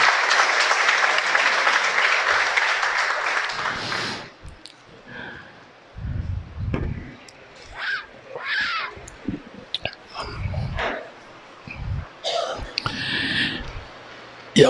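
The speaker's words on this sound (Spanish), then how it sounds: "Un aplauso, por favor, para ella." A church congregation at a Sunday sermon bursts into applause for about four seconds, a dense burst of clapping that fades into a quiet room with scattered soft rustles, clicks and small noises.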